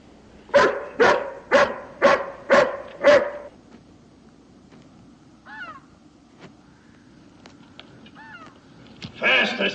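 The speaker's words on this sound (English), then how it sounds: "Can't you temper this hound some?" A hound barks five times in a quick, loud, evenly spaced burst, then falls quiet while crows caw faintly in the distance and a voice speaks briefly near the end.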